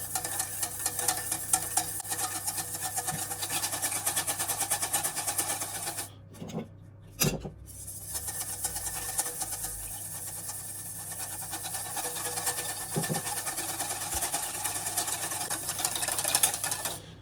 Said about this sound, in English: I'm just using a whisk here, but you can do this in a jar, in a food processor